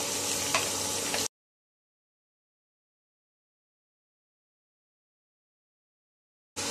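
Green chillies drop into hot coconut oil in a pan for a Kerala-style mushroom masala, giving a close, crackling sizzle for about a second. Silence follows, then the frying returns briefly at the end.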